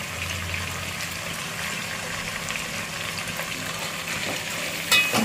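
Tomatoes sautéing in a hot pan give a steady, dense sizzle that runs unbroken throughout, close and moderately loud, with a brief clink near the end.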